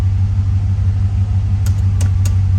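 A 1982 C3 car, warmed up and idling in park at about 700 rpm, holds a steady, deep engine rumble throughout, close and loud, with a few faint clicks near the end.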